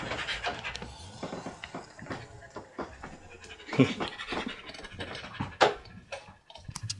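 A one-year-old husky pants rapidly and rhythmically up close after excitement, quick breathy huffs continuing throughout with occasional faint clicks.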